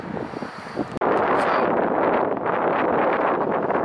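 A sudden burst of loud gusting wind, around 30 km/h, buffets the microphone, roaring steadily after a brief quieter rustle.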